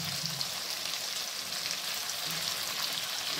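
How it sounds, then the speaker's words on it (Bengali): Fried cauliflower and potatoes hiss loudly in hot spiced oil for a Bengali katla fish curry, one steady close sizzle with light crackle throughout. "এরপর ভেজে রাখা ফুলকপিগুলো দিয়ে দিচ্ছি। আর ভেজে রাখা আলুগুলো দিয়ে দিচ্ছি।"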